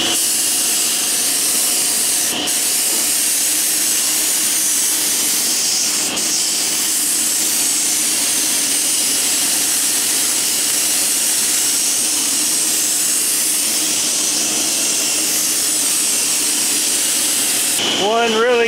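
A spray gun lays a thick coat of clear onto a Jeep Wrangler JK, a continuous close hiss of atomized paint that runs steadily with a few brief clicks and breaks.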